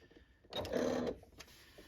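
Sewing machine stitching over rope, a short burst of rapid mechanical whirring lasting about half a second, close and fairly loud, followed by a faint click, no talking.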